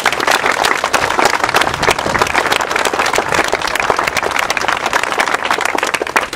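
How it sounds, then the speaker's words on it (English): Outdoor crowd at a highway flyover groundbreaking ceremony applauds loudly and continuously, a dense wash of many hands clapping with no talk over it for about six seconds. "let's give them one more round of applause."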